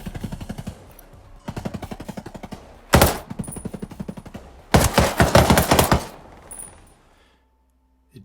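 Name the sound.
gunfire from 516 Shorty rifle in Ghost Recon Breakpoint video game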